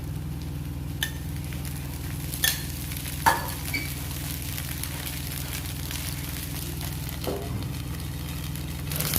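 Poha dosa batter cooking in oil on a pan makes a soft, continuous sizzle under a low hum, broken by a few sharp clinks of a utensil against the pan.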